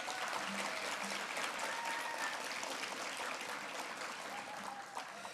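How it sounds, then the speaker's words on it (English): Audience applause fills an award-ceremony hall, a steady, dense wash of clapping from a large crowd that holds even throughout and eases slightly near the end, with no voices over it. "Let's just give them all a round of applause."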